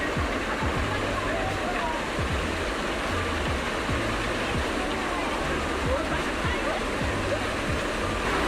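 A steady, full rush of a warm geothermal waterfall in Rotorua, New Zealand pours continuously, close and loud, with faint voices in the background.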